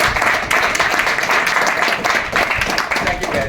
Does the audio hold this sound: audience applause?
yes